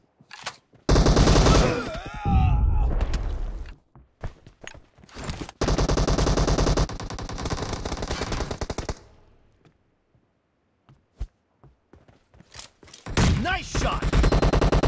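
PUBG Mobile gunfire rattles out in long, loud automatic bursts, dense sustained volleys broken by short pauses and a few isolated single shots near the end.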